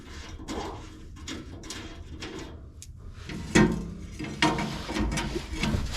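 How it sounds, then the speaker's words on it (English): A ratchet wrench loosens bolts under a Gen 2 Ford Raptor during an oil change, close rapid clicking bursts with metallic knocks and handling clatter, no speech. "we'll remove these bolts that we didn't want to lose"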